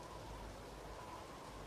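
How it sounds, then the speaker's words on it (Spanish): Rain and snow weather effects in the video game Arma 3, a steady, even rain-like hiss that stays constant and faint throughout with no talk. "Lloviendo y nevando, yo veo llover y nevar."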